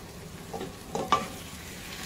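Boiled spaghetti with shrimp and holy basil stir-fries in a pan: a faint, short burst of scraping and soft sizzle with a couple of louder stirring strokes, no talking.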